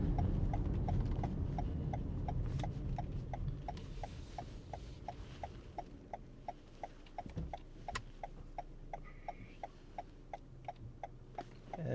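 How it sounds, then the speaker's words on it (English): Soft, regular clicking of a 2022 Toyota Highlander SUV turn indicator, a steady even tick repeating quietly over low road and cabin hum inside the moving vehicle. "And that's what the turn indicator sounds like"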